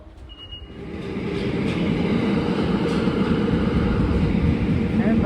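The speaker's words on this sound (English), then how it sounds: "We took our local metro train from the Shinjuku station down to the Tokyo station." A local Tokyo metro train rides from Shinjuku station toward Tokyo station, its steady rumbling roar swelling in the first second and then holding loud and close for the rest of the ride.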